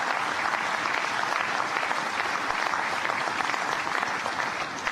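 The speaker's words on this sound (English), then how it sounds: "let's give these great builders a round of applause" An audience at the christening of the submarine USS Indiana applauds the Newport News Shipbuilding builders, a steady wash of clapping heard from a distance at moderate level, unbroken throughout and without talk.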